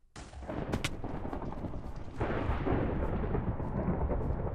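Lightning and thunder in Minecraft, a sudden sharp crack followed by a sustained, heavy rumbling roll that grows louder partway through and carries on to the end.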